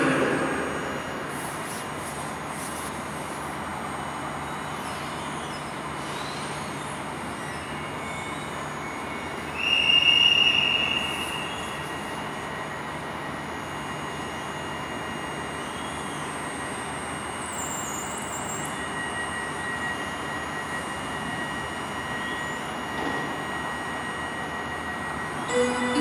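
EN57 passenger train passing through a railway station, a long faint rolling rumble of wheels with a brief squeal and louder swell partway through, heard from the platform with no voices.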